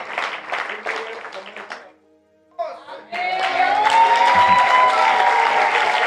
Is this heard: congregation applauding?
yes